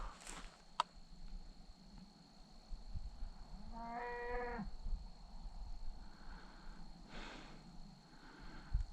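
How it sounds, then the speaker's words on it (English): A single low, drawn-out cow moo rises out of quiet outdoor ambience in a dove-hunting field, moderately distant, with faint rustling around it. "we got a cow right here"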